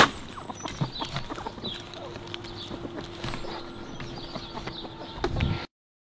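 Chickens cluck and chirp nearby amid scattered rustling and scratching as they are fed curly lettuce, with a few louder thumps near the end.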